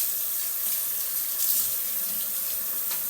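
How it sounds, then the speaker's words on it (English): Water runs steadily from a kitchen tap to rinse a blender's beaters, a close, constant splashing hiss with no talk over it. "you got to let your turn your water on while you're doing it"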